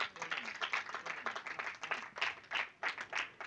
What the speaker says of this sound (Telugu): గట్టి చప్పట్లు కొట్టండి ఒకసారి